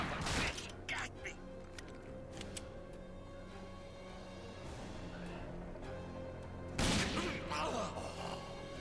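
Gunfire in the game RAGE: sharp cracking shots burst near the start and again around the seven-second mark, with scattered impacts and game voices over a low ambient drone.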